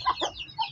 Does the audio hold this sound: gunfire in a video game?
no